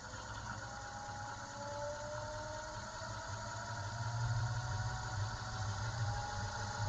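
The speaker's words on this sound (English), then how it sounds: "that's the slowest spin rate on the lathe" A lathe turning slowly with a GoPro mounted on it, giving a steady low mechanical hum and rumble that holds constant throughout, with a faint rising whine, and no talk.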